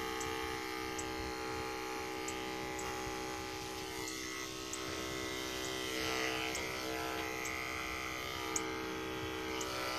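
Electric clippers shave a goat being groomed for a show, giving a steady, close electric buzz and hum that runs throughout, with faint ticking on top and no talking.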